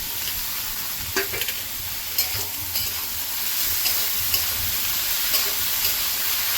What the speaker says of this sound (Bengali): পেঁয়াজ ভেজে নিয়েছি, করলাগুলো দিয়ে দেবো, টমেটোগুলো দিয়ে দেবো,